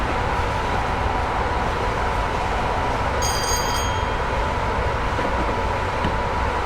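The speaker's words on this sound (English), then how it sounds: "Get some brakes on while we're running down just to make sure we get under 100." A Class 87 electric train in Train Simulator 2015, running on the West Coast Main Line, rolls on with steady rail rumble and a brief high squeal as the brakes go on, alone with no talk.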